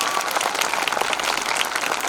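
A crowd at a speech-of-thanks gathering claps in a dense, continuous burst of applause, even in loudness and heard alone without speech.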